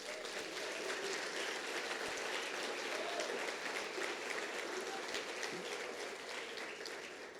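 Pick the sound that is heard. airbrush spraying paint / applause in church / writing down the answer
applause in church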